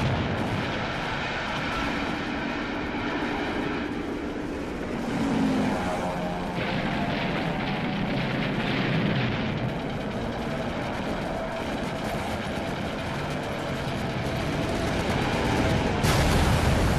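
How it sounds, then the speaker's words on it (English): Bombs from a Japanese air raid exploding on airfield runways, a dense, heavy rumble of blasts and roaring aircraft engines that keeps going throughout, loud and unbroken. "The Japanese bomb the runways and obliterate the command post"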